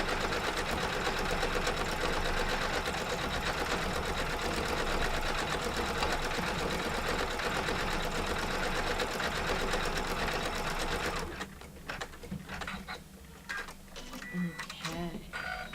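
A computerized embroidery machine stitches a dense design, its fast steady needle chatter loud and continuous before dropping to a quieter, intermittent stitching near the end.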